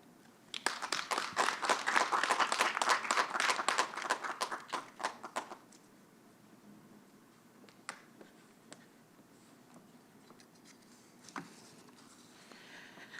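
A convocation audience breaks into a burst of applause, many hands clapping loudly for about five seconds, then fading to sparse scattered claps and a quiet room.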